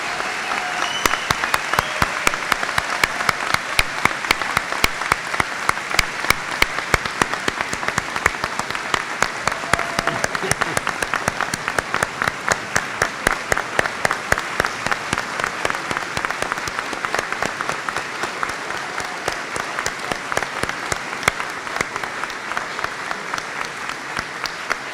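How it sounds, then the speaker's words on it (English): An audience at a university convocation ceremony applauds graduates, a sustained, dense clatter of many hands clapping that carries on for the whole stretch at an even level in a large hall. "a round of applause for our humanities graduates"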